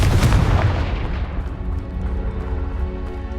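A Confringo fire spell blasts off in the Hogwarts Legacy video game, a loud booming burst at the start that rolls away into a fading, rumbling tail.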